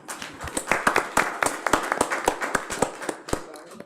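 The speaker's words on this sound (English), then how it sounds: "If we can get them a round of applause" A small audience at a school board meeting gives a scattered round of applause for students, individual claps distinct and uneven, moderately near and fading toward the end.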